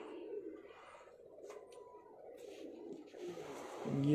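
Pigeon cooing at a Multan pigeon loft, a low murmuring coo that swells and grows louder toward the end, with faint background noise and no clear talk.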